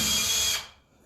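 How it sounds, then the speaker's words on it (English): A power drill bores a hole for a DIY hanging planter: one loud, close, high whine lasting about half a second before it cuts off and fades. "And again, when I drill, I just keep it in forward the whole time, keep the trigger pressed."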